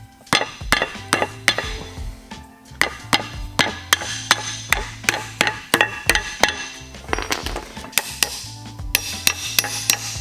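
A hammer beats on a small metal piece of a lowering kit for a 1997 Toyota Tacoma, striking in a steady series of sharp, ringing metallic blows, close and loud, with short pauses between bursts.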